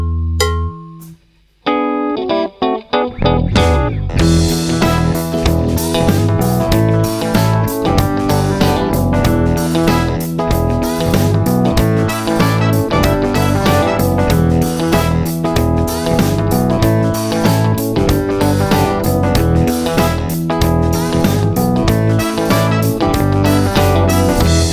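A rough mix of recorded electric guitar tracks, a few sparse notes opening before a full, dense, continuous band-style mix starts and plays loudly without pause.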